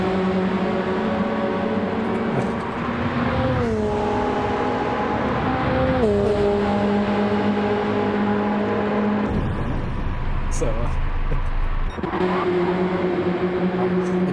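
Mazda Miata race cars lap a track in a steady, close engine drone that shifts pitch through several gear changes, with a brief rougher burst midway and no speech.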